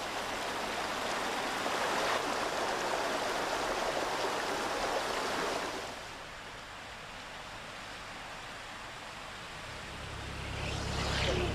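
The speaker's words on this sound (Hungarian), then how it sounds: "A folyó az első település Negres előtt már lankás részen szalad." The Túr river runs over boulders on a gently sloping stretch before the village of Negresti, a steady broadband rush of flowing water that drops to a quieter murmur partway through, then swells again.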